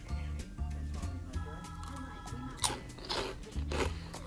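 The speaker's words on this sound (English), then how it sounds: "Sorry for all this crunching." Crunching bites and chewing of Funyuns onion-ring snacks, close and fairly quiet, with several sharp crunches in the second half over a soft, steady music background.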